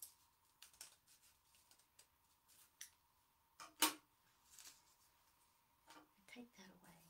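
Scissors cut through paper in a quiet room, with a series of soft crisp snips and one sharper, louder cut midway, and faint low vocal sounds in between.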